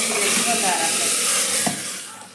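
A loud, steady sizzle of spices hitting hot oil for tempering dal dhokli fills the clip, hissing continuously before easing slightly near the end.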